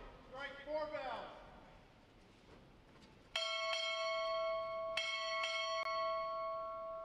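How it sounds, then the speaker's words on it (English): Four bell strikes at a U.S. Navy Recruit Training Command graduation ceremony, loud ringing tones sounding in two spaced pairs that sustain and overlap, following a shouted command. "Strike four bells!"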